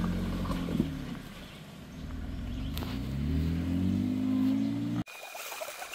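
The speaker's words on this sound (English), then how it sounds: "you could hear a little bit of that fart cannon still, so apparently that exhaust repair didn't work super good" Loud, steady exhaust drone of an off-road vehicle pushing through a mud hole on a trail in Michigan's Upper Peninsula, its exhaust poorly repaired, rising and falling with throttle before cutting off abruptly near the end.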